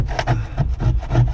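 An old scraper scrapes carpet glue off a boat, giving rough, repeated rasping strokes in a steady rhythm, loud and close with no voices.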